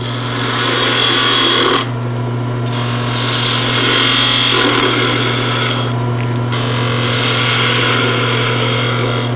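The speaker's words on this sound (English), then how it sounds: "it's time to use a 3/8 spindle gouge and shape it a little bit better" A 3/8 spindle gouge shapes a spinning piece of wood on a woodturning lathe, a loud continuous scraping cut over the steady motor hum, with brief pauses as the tool lifts.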